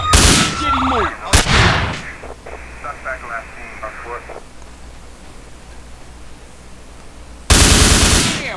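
Gunfire from weapons in the GTA video game with a Cleo zoom-aim mod comes in loud sharp bursts, followed by a stretch of faint game ambience before another loud blast at the end.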